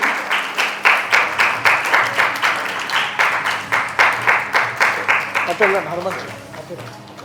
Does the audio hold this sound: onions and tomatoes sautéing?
no